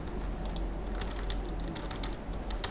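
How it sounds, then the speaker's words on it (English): Computer keyboard typing into a Google Docs document: a steady run of crisp, close key clicks in an irregular rhythm over a constant background hum, with no talking. "So if you keep typing here,"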